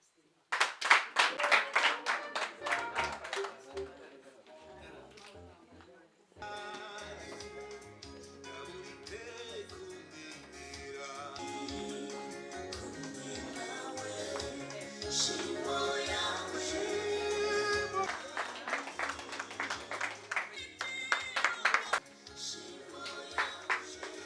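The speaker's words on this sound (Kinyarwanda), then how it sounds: "Ariko mujye mutangana amashyi." An audience at a ceremony bursts into clapping at the start, then a long stretch of softer, busier sound follows, and a second round of crisp clapping rises near the end.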